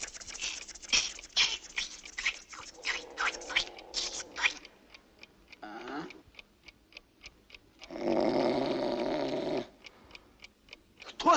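A person snores in a comedy sketch with a repeated rhythmic ticking in the background, and one long, rough, drawn-out snore stands out near the end.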